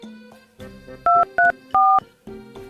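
A telephone keypad dials the police emergency number 112: three short, loud, evenly spaced tones between quieter background sounds.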